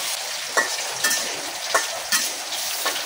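Potatoes and taro corms frying in a pan in a village kitchen, a steady close sizzle broken by several distinct scraping stirs about every half second to second, with no talking.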